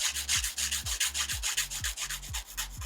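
A nail file rasps back and forth against a fingernail in a steady, rapid rhythm of about a dozen short scratchy strokes, close up and with no voices.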